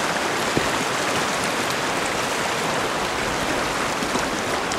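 The North Fork of Porcupine Creek in Kananaskis rushing steadily nearby, a dense unbroken wash of flowing water with no voices.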